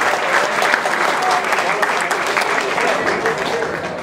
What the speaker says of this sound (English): Once again, big round of applause to them, you guys.